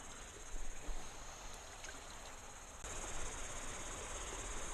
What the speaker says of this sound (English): Cicada life.